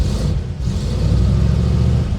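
A 1936 Chevy hot rod engine without an auto choke revs hard and continuously close by while warming up, a loud throaty rumble that rises and holds without letting up.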